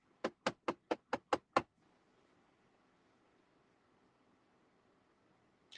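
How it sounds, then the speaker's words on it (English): Seven quick, evenly spaced knocks on a door ring out crisp and close, followed by several seconds of near silence with faint background hiss. "I yell out to Leah, if somebody knocks, don't move"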